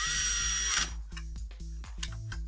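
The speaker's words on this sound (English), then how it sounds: "So we can go and put our screws back in." A power screwdriver whirs briefly at first, then screws are driven back into a TV formatter board during a Mitsubishi DLP television repair, followed by a series of short, regular mechanical ticks, close and steady.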